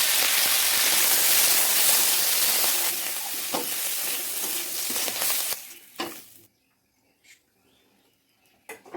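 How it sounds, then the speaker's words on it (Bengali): Garlic sizzles loudly in hot oil for Bengali kata chochori, a steady crackling hiss that fades out partway through, leaving near quiet with a few faint clicks. "রসুন ভাজা হয়ে গেল"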